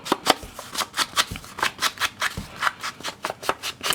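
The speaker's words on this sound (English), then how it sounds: "See, these are really sturdy envelopes." Sturdy 5x7 paper envelopes handled up close, giving a quick series of crisp rustles and flicks in an irregular rhythm, fairly loud, with no talk.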